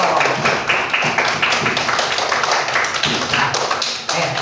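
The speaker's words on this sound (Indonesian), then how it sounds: "tepuk tangan dulu dong kita semua dulu" A group of participants at a teacher-training workshop claps together, producing a dense, steady patter of many hands that is loud and fills the whole stretch without pause.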